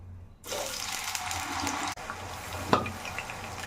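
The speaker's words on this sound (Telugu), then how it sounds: "ఇప్పుడైతే ఆయిల్ హీట్ అయిపోయింది కదా, మనం ముందుగా కట్ చేసుకున్న ఆలుగడ్డలను అయితే ఇందులో వేసేద్దాం" Cut potatoes drop into hot oil and set off a sudden, steady bubbling sizzle that carries on close and loud, with a sharp clink of a utensil partway through.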